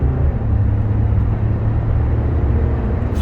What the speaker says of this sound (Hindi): स्पोर्ट्स मोड में जब इंजन रेव करता है बहुत शोर करता है,